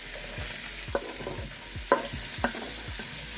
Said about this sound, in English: Now we're getting ready to add our vegetables here, which is our celery